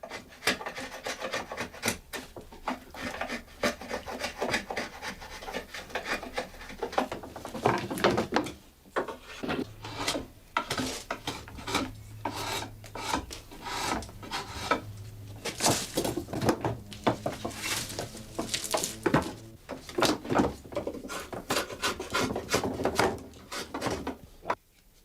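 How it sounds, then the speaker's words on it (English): A draw knife shaves and squares the wooden forks of a handmade rake, producing repeated close rasping, scraping strokes in an irregular rhythm, with no talking. "the forks are sharpened to a square shape with the draw knife"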